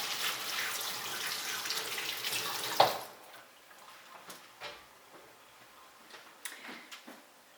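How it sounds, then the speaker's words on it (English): A kitchen tap runs in a steady hiss while hands are washed beneath it, then shuts off abruptly, leaving soft drips, light clicks and handling noises. "I am going to just give my hands a little wash here"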